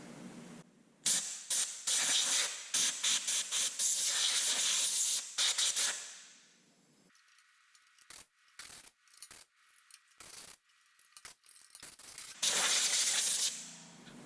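Compressed air blasts debris off the engine of a junked Simplicity 4208 riding mower, coming as loud hissing bursts in a steady run, then short intermittent puffs, then one more long blast.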